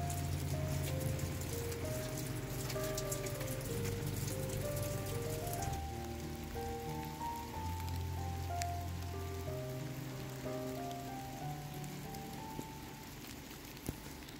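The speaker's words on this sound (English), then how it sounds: "It is raining pretty good." Heavy rain falls steadily as a loud, constant hiss close by, with soft music of sustained tones playing throughout.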